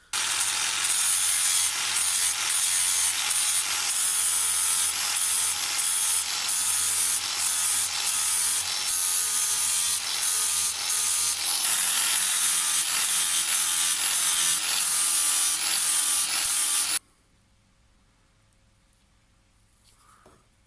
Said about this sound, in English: I'm going to use a 60 grit because I need to take a lot of material off